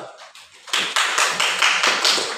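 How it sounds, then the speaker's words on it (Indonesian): Classroom applause for a classmate: after a short quiet lead-in, a burst of steady, fairly loud clapping from a group of students rises and continues to the end, with no talk over it. "berikan nilai aplaus untuk teman kita"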